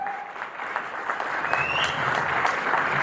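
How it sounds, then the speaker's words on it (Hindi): An audience at an evening event claps warmly to welcome a guest speaker, a dense, steady wash of applause building slightly over a few seconds at moderate distance, with no voices on top. "give a huge round of applause"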